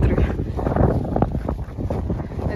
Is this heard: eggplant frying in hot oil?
no